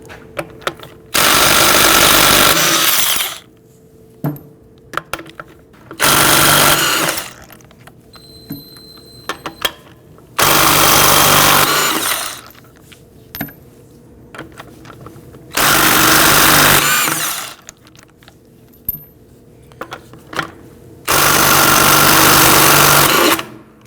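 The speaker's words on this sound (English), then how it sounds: "Using a 19mm socket, loosen and remove the lug studs." Rear wheel lug nuts on a Volvo S60 being loosened and removed with a 19mm socket on an impact tool, five loud, long rattling bursts separated by quiet gaps with small clinks between them.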